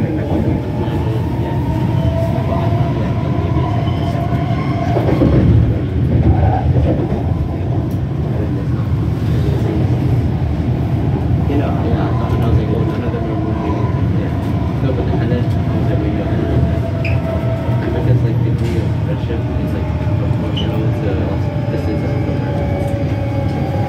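Riding inside a metro train bound for Richmond–Brighouse: a constant rumbling roar of the carriage on the rails, with an automated announcement voice heard over it.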